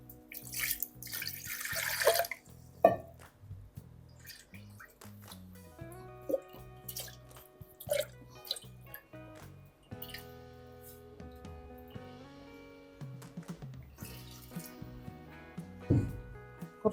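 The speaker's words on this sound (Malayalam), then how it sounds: "നല്ലോണം മിക്സ് ചെയ്തിട്ട് ബാക്കി വെള്ളം ഒഴിച്ചു കൊടുക്കുക" Water being poured into a pan of tomato curry, heard as quiet, intermittent splashes and drips over faint steady background tones.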